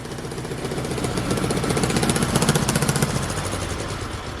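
A Dnipro-11 motorcycle engine runs close by with a loud, rapid knocking throb that swells in the middle and then settles into a steady idle.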